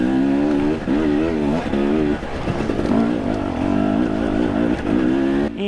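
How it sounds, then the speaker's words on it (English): A KTM enduro motorcycle climbs a loose, rocky dirt hill in second gear, its two-stroke engine revving hard and steady throughout with rising and falling pitch as the clutch slips, loud and close. "I was mostly on second gear, clutching up to prevent as much tire spin as I can."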